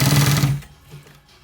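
A sewing machine stitches the top of a V-neck, a loud rapid motor whir with a fast needle pulse for about half a second, then stops, leaving only faint handling noise.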